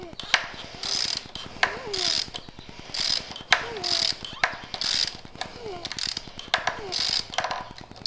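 A plastic grommet creaks and cracks as it is worked out of a 2009 Yamaha R1 motorcycle handlebar. Repeated ratcheting clicks and snaps come in close bursts, with some rustling handling noise between them.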